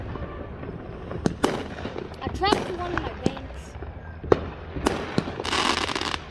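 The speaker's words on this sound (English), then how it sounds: "Log Lane does a pretty good firework display, huh?" Fireworks at a village July 4th celebration in Log Lane Village, with sharp bangs, pops and crackling bursts scattered at a distance, while people talk nearby.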